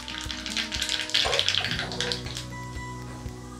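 Mustard seeds spluttering in hot oil for a tempering, a close, busy crackle with sharp pops that thins out and settles into a quieter sizzle.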